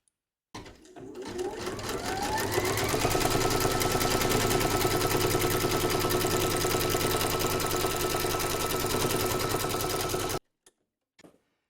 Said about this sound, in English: Load your thread colour for the background quilting into your machine, and then stitch round number 3